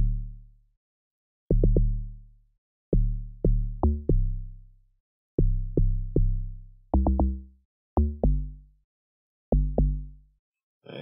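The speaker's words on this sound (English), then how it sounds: "Yeah, I'll start by showing you how I made the log drum." A synthesized log drum in an afro-piano beat made in FL Studio plays a syncopated pattern of deep, resonant plucked thumps with quick decays, loud and alone with gaps of silence between phrases.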